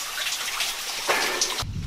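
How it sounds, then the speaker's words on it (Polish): Water trickling and seeping through a hole at the entrance of an abandoned gold mine in California, fed by a stream overhead, a steady close hiss of running water that ends in a low thump. "tutaj przez tą dziurę sączy się woda"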